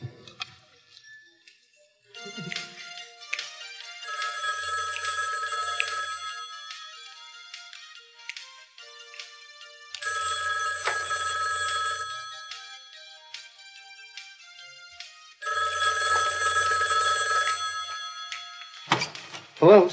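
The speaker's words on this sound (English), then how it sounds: "Hello, Stewart residence" A telephone rings in three long electronic bursts separated by pauses, moderately loud and close, with brief quiet gaps between rings and a short bit of sound at the very end.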